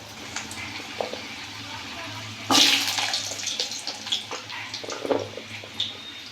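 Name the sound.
potatoes frying in hot oil with cumin and dried chilli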